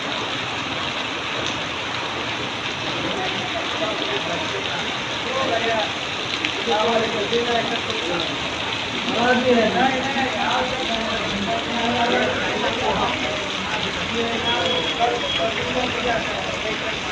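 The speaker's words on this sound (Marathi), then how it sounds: "आज सकाळपासून अधूनमधून ऊन पावसाचा खेळ पाहायला मिळाला।" Steady rain falls in Murud, Ratnagiri, on a day of alternating sun and showers, producing a dense, even hiss that continues throughout, with faint indistinct voices now and then in the background.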